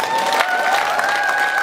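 A crowd at a circumcision celebration party claps in steady, dense applause for the whole stretch, fairly loud and close, with a sustained musical tone running underneath.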